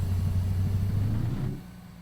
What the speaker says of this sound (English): Just turn the engine audio down on this if I can.